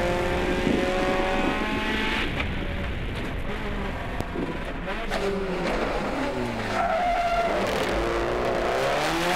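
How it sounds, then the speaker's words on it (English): A rally car on a forest stage locks up its tyres on the approach to a hairpin, with engine noise and tyre skid running steadily throughout at close range. "Bit of tyre smoke coming from those buff tyres into the coat speed zone. Look at the car there, beautiful. And big lock-up, big lock-up."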